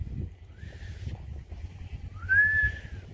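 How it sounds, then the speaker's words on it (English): A person attempts to whistle and mostly fails, producing breathy airy blowing with a couple of brief rising wavering tones, the second louder, over a low background rumble. "He can't whistle at all today."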